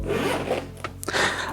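Dual zippers on the main compartment of a tomtoc Aviator T33 chest bag being opened, a close, brief raspy zip pulled in quick strokes.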